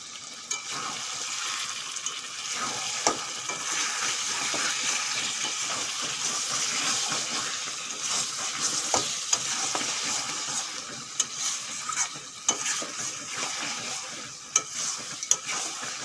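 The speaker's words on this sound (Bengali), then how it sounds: "এইভাবে আরও কতক্ষণ কষাবো মাংস কষানো হয়ে গেছে" Mutton curry with potatoes sizzles steadily in a pan as a spatula stirs and scrapes it, making scattered sharp clicks over a continuous close frying hiss.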